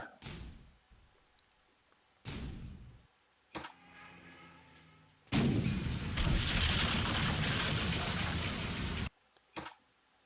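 Bombs exploding on ships in the naval video game Carrier Battles 4: a few short, separate thuds, then a long, heavy roaring blast lasting several seconds, and one last brief thump.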